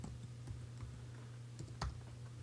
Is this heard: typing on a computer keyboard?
yes